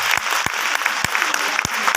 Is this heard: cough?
no